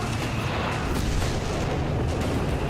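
Artillery fire in the Company of Heroes 3 battle game, a dense, continuous rumble of booms and blasts filling the whole moment, loud and without pause.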